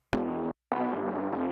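An original bass loop, before any tempo change or chopping, plays as two quieter phrases split by a short silence: a brief opening hit, then a longer steady stretch of low tonal notes, with no talking.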